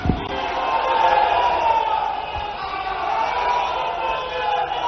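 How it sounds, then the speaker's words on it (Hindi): A large crowd at a farmers' conference roars and cheers in welcome for Amit Shah, a loud, sustained wall of noise with applause buried inside it. "जोरदार तालियों के साथ अभिनंदन करें आदरणीय श्री अमित"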